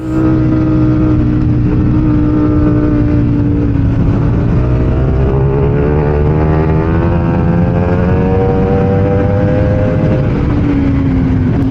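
Ducati V4 motorcycles lapping a race track during a test day, a loud, continuous engine drone with rising and falling revs, close and unbroken, with no talking.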